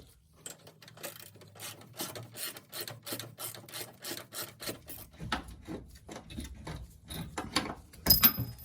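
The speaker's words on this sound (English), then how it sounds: "we'll keep going and pull that bolt" Eccentric toe bolt being pulled out of a BMW M2 rear suspension arm, giving a steady run of close, rhythmic rasping and scraping strokes that grow louder and more metallic near the end, with no talking.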